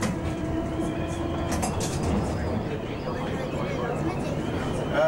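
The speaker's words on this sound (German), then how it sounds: "Die Geräuschkulisse weist unüberhörbar auf die Herkunft S-Bahn her." A Berlin U-Bahn EIII train, a converted former S-Bahn car, rolls along with a continuous loud rumble, rhythmic wheel clatter and a faint high squeal near the end.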